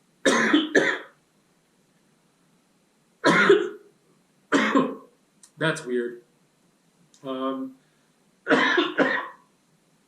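Several harsh, dry coughs in separate bursts, close by, with a brief spoken remark near the end.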